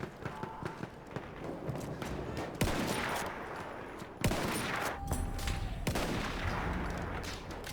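Sniper rifle shots ring out in the video game Battlefield 1, several sharp, loud reports spaced a second or more apart over a busy battlefield rumble of distant gunfire and explosions.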